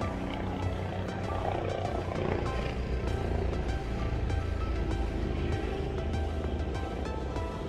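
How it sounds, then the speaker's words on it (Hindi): A helicopter flies over forest in Manali, its rotor and engine roar filling the scene loud and continuous for the whole stretch, with no voices heard. "हेलीकॉप्टर"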